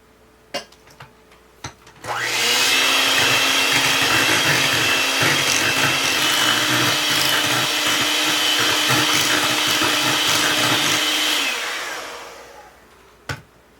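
An electric mixer beats pumpkin cheesecake batter after an egg is added, switching on with a loud steady whir that holds evenly for about nine seconds before cutting off, with a few faint clicks and knocks before and after.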